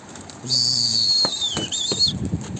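Pet birds flap their wings close by in a flock of about two dozen flyers, several quick soft wingbeats amid a sustained high whistling tone, with no one talking.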